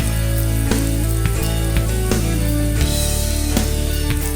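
Rice frying and sizzling in oil in a wide paella pan over high heat for a pork cutlet and artichoke paella, a steady loud sizzle with occasional scraping stir strokes.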